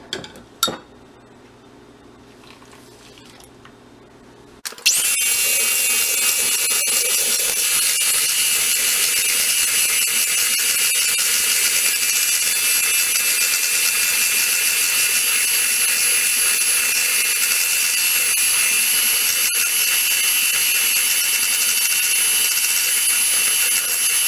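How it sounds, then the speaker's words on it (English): An electric hand mixer switches on and whips coffee mix in a bowl with a steady, loud, high-pitched whine that holds unbroken for about twenty seconds, after a few quiet seconds and a small clatter. "soon as I pour it in, I'm going to start mixing it with my electric mixer"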